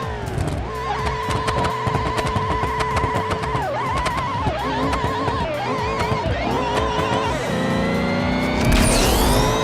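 A Hellcat-engined front-wheel-drive Dodge Pacifica minivan making 1,300 horsepower roars continuously at full power, its revs rising and dipping in waves before climbing harder near the end, loud and close throughout.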